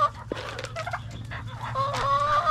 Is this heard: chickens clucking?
yes